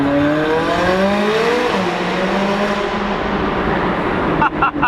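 A Koenigsegg with a twin-turbo V8 accelerates hard through an underpass, its loud engine note climbing steadily in pitch and echoing off the walls, close and continuous to the end.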